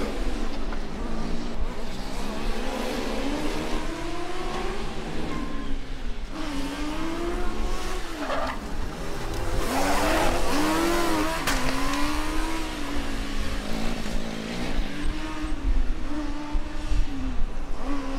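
Formula Student race car from Karlsruhe running an autocross lap at a historic event, its engine loud and close throughout, revving up and down through gear changes and corners.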